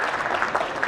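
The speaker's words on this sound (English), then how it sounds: "big round of applause for all of us" Audience applause at a corporate IT summit, a steady wash of clapping hands filling the whole brief moment, fairly loud and continuous.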